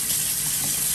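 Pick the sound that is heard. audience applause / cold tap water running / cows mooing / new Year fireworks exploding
cold tap water running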